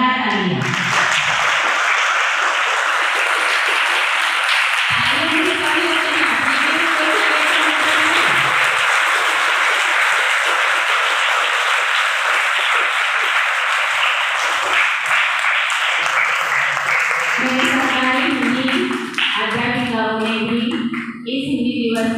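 Hall audience at a Hindi Diwas event bursting into loud, sustained applause lasting many seconds, with someone speaking into a microphone during and after the clapping.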